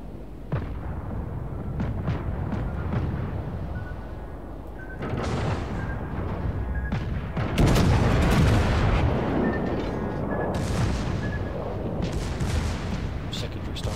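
Secondary guns of a warship fire in World of Warships, sounding as repeated booms and bursts over a steady rumble of battle noise, with a sharper, louder volley partway through.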